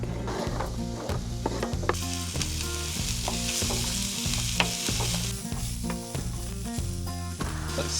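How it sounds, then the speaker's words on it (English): Onion bits sizzling in oil in a foldable Sea To Summit X Set camping pan inside a campervan, a steady loud crackle with rhythmic low stirring scrapes repeating throughout, no talk. "So now let's fry these bits off in the pan."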